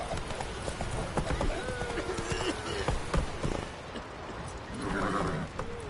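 Roach, a horse in The Witcher 3 video game, gallops with rapid rhythmic hoof clip-clops over a rumbling background, then gives a short snort or whinny near the end.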